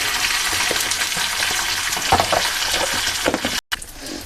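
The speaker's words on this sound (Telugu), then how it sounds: "ఇప్పుడు పోపు దించేసుకుందాం స్టవ్ బంద్ చేసి" Steady crackling sizzle of mustard seeds, cumin, curry leaves and dried red chillies frying in hot oil, loud and continuous, with a few sharper pops and a brief drop to silence near the end.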